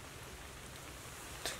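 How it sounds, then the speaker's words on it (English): Rain falls steadily at night over a solo hiker's wild camp, a soft, even hiss on the tent, with one brief louder patter near the end and no voices. "it's obviously raining, it's in for the night"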